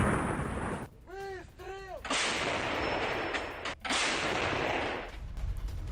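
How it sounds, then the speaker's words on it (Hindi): A 152 mm howitzer fires on Ukrainian positions during fighting in Kursk, heavy booming blasts separated by short gaps, loud and close, with a whistling tone in between. "होवित्जर तोप से हमला किया गया है। 152 mm होवित्जर से हमला हुआ।"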